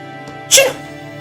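A single sharp sneeze in a video game, Fate/Grand Order, bursts out over a steady low electronic hum, brief and fairly loud, with quiet ambience before and after.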